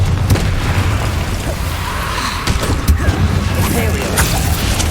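A Confringo fire spell blasts in Hogwarts Legacy, with loud booming bursts over a dense rumbling game soundscape. A sharp pop lands near the middle amid continuous mechanical noise, and a voice shouts the spell name.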